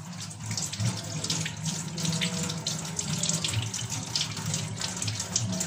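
Tap water runs steadily into a sink during handwashing, a continuous close splashing hiss with no voices.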